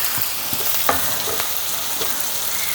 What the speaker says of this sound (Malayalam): ഇനി ഇത് നന്നായിട്ടൊന്ന് വറുത്തെടുക്കാം